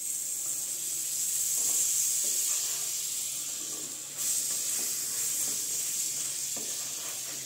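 Chicken paratha fries in butter on a pan, giving a steady, close sizzle and hiss that runs throughout with light crackles, no voices.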